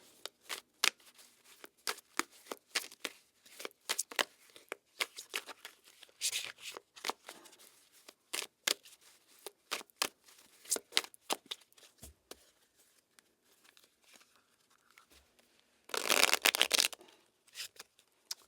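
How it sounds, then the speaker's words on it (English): A large deck of tarot cards is shuffled by hand, giving rapid crisp riffling bursts throughout, with a louder, denser flurry near the end and no talking. "let's cut this deck and begin your messages"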